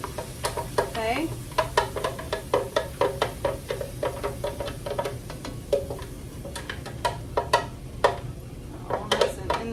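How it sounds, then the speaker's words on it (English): Blended barbecue-style sauce and meat stirred in a pan for a Cowboy bowl, repeated clicking scrapes of the utensil against the pan over a low sizzle, with someone talking between strokes. "And you're gonna go ahead and stir this up and try to get like all the little bits of meat and stuff."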